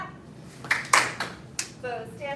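Students in a kung fu crane basics class clap their hands a few times, sharp slaps close by in a quiet room, with a brief voice at the end.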